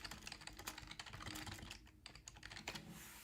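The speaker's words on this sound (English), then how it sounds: "I'm over here typing away." Rapid typing on a computer keyboard at a live trading desk, a close, busy clatter of keystrokes with short pauses and bursts, heard alone without talk.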